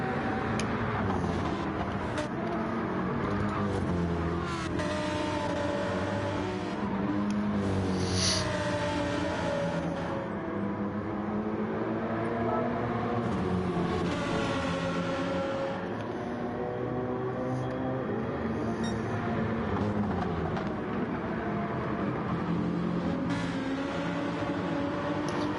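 Race cars, including a BMW M6 and a Lamborghini, lapping the Barcelona circuit in a racing video game: a continuous engine drone with rising and falling pitch as revs climb and gears shift, steady and unbroken, with no talk.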